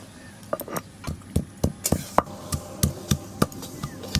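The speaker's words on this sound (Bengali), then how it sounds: "প্রথমে আদা বেটে নেব।" Ginger for moong dal khichuri being crushed into paste, a run of about fourteen sharp, fairly evenly spaced thuds and knocks with quiet gaps between them and no voices.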